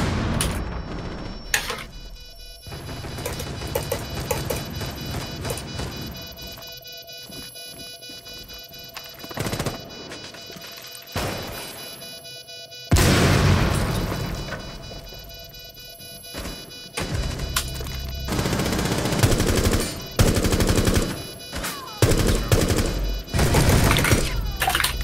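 Gunfire and explosions from the video game Valorant come in scattered bursts and sharp blasts over about twenty-five seconds, with louder, denser volleys near the middle and end and no voices.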